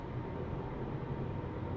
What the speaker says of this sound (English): Sorry, that's a plane passing, I think.